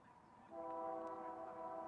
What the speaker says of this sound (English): train sounds in the distance